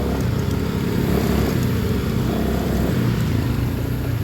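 Skygo Lance 150 motorcycle ridden on a dirt trail: a steady, loud, low engine drone held throughout, close to the listener, with no talk.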